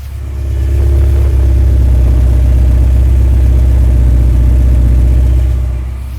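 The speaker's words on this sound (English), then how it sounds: "now moving to the exhaust, we've got twin exits on either side. So let's have a good listen to that." A 1991 Ferrari 348 tb exhaust idles with a deep, steady, loud rumble that holds evenly throughout, recorded close to the tailpipe of its twin exits.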